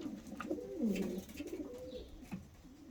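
Soft, low pigeon cooing repeats through the moment, a few rolling coos close by with faint background noise and no talking.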